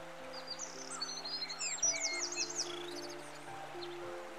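Several birds sing and chirp in bright, quick phrases over a faint steady hum, fairly close and clear, with no talking.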